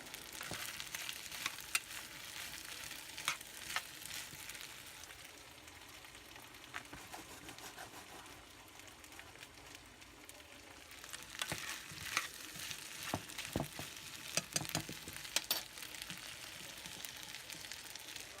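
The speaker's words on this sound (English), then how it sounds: "I'm going to pan sear my pork chops" Thick pork chops sear in melted butter in a pan, a steady loud sizzle and crackle running throughout with bursts of sharper popping and occasional stirring or shifting noises.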